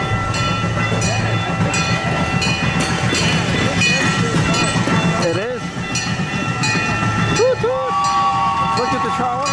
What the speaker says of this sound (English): There's a train coming? I just heard something.